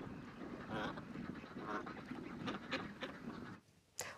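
Ducks quack and honk in a steady, busy chorus at moderate distance, calls overlapping and rising now and then, with a brief lull before one final loud call.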